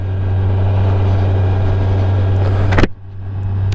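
A brand-new motorcycle rides along with a steady, loud engine drone and strong low hum, then a brief surge and sharp drop in engine note as it shifts gears near the end.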